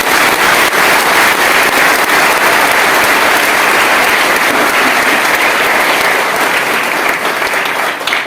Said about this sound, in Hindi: अच्छी तरह से ताली बजा